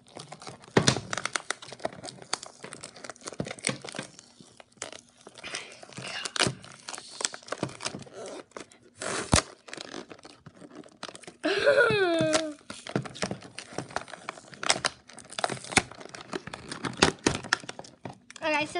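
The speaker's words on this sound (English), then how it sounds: "Let's see if I can start getting this tape done with the scissors." Scissors snip and crinkle through tape on plastic Shopkins season 7 toy packaging, with rustling and crumpling bursts throughout and a person talking intermittently over it.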